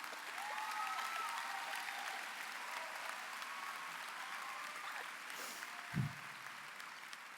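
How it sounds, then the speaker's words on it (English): Graduation audience applauding at a high school commencement ceremony, a steady wash of clapping from a large crowd that continues throughout at moderate, even loudness. "yes, give applause."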